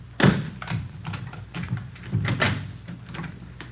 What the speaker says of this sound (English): Let me get the door open.